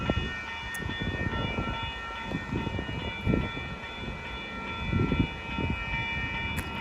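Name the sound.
train passing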